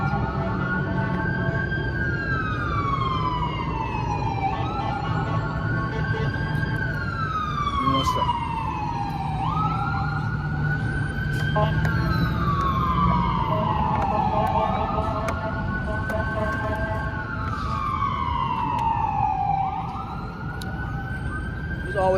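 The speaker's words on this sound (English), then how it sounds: "Every time we come out and preach, it's always sirens." Emergency vehicle sirens wail through the street during outdoor preaching, repeating rising and falling sweeps for over twenty seconds over a constant traffic rumble.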